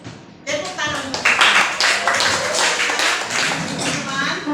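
A group of teachers at a school training session claps for their colleagues, a sustained close ripple of many hands with a few sharper taps, mixed with faint voices.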